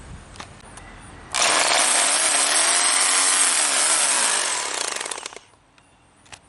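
A power drill with a 1/2 inch bit grinds loudly and steadily into brick mortar for about four seconds, close by, then winds down and stops.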